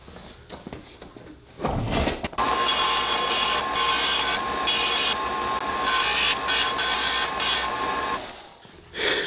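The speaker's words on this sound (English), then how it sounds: "you're using the belt sander to grind it down" A belt sander grinds a wooden wiping stick for a handmade flintlock trade gun, a loud, steady abrasive whine after a few brief scraping touches, running continuously before cutting off near the end.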